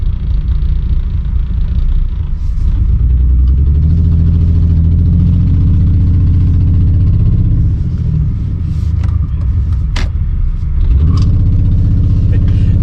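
A mistreated car runs with a horrible, rough exhaust, giving a steady loud low rumble throughout, with a few brief clicks and knocks near the end.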